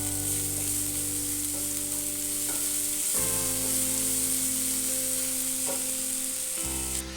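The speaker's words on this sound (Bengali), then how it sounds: "এবার এর মধ্যে আমি যে আদা রসুনের পেস্ট বানিয়েছি সেইটা দিচ্ছি।" Ginger-garlic paste sizzling in hot oil in a pan, a steady loud hiss running throughout with a low hum underneath, no talking.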